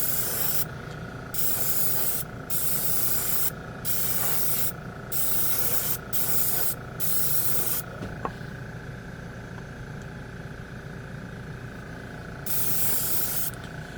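An airbrush spraying 2K paint hisses in repeated bursts, some short and some longer, close by over a faint steady hum.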